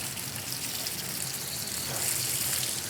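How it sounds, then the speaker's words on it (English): Garden hose blasting water onto Wandering Jew plant leaves in a garden, a steady broadband hiss of spraying water that holds for the full three seconds and grows slightly louder near the end. "That's where I give it a big blast of water."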